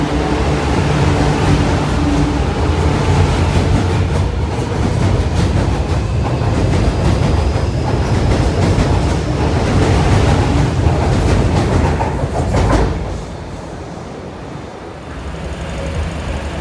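A Q train at Kowloon Bay metro station rumbles and roars loudly for about twelve seconds, then the noise drops off sharply to a quieter station hum, with no voices heard.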